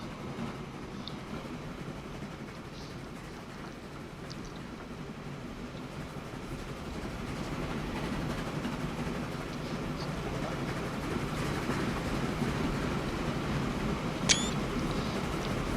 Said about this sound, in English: 2 trains passing.